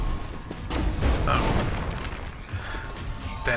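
Explosion in the video game Skyforge, a sudden loud crash and boom followed by rumbling debris and scattered game effects that fade over a few seconds.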